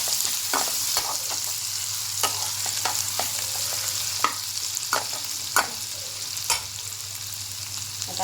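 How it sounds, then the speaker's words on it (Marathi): A corn cob chivda mixture sautés in a pan, with a steady soft sizzle broken by occasional scraping stirs of the spoon, heard close and alone without any voices. "छान परतून घेऊया"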